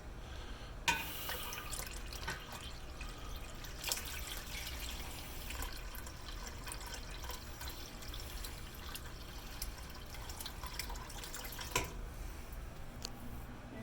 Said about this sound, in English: Next, we're going to pour this water into the base.